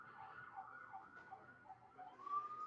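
Emergency vehicle sirens wail faintly in the distance, a steady rising and falling tone that swells slightly louder near the end, with no talk over it.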